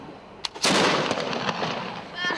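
A muzzle-loading cannon primed with powder in the pan and charged with powder fires at a museum: one sudden, loud, booming blast that rolls off and echoes for over a second after a couple of faint handling knocks.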